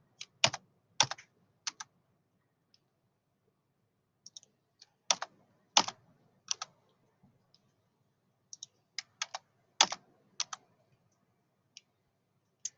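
A computer keyboard is typed on in short, sparse bursts of crisp clicking keystrokes separated by pauses. The clicks are close and fairly quiet, with no voices in the background.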